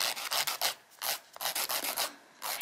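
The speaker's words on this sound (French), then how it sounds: "on pose la lime à plat" A nail file laid flat against a fingernail rasps back and forth in quick repeated strokes, each a bright scratchy burst with short pauses between, close and clear with no talking.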